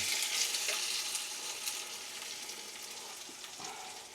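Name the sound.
dried red chillies frying in oil for mango pickle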